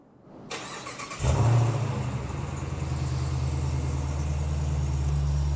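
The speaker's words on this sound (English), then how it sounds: "that throaty V8 is going to cause a bit of a stir with a cold start early in the morning" A 2025 Dodge Durango Hellcat's V8 engine cranks and roars to life in an early-morning remote cold start after a brief silence, then settles into a loud, deep, rumbling idle close by.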